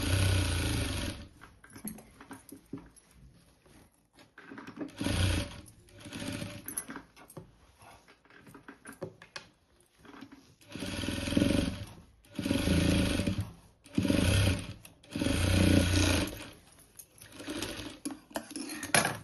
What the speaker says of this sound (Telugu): ఈ కార్నర్కి ఇంకొక ఒక కుట్టు వేసుకోవాలన్నమాట రెండు వైపులా కార్నర్లకు వేసుకోవాలి